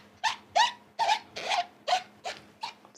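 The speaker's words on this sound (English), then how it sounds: "It's a very squeaky noise." Repeated squeaky rubbing strokes from a rubber stamp being wiped clean after card-making, about seven short, fairly loud bursts in a steady rhythm, close by with no talking.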